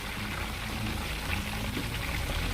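Chicken wings deep frying in hot grease in a basket for a Chinese-style fried wing recipe, giving a steady, dense crackling bubble that holds at an even level throughout, close by and with no talking.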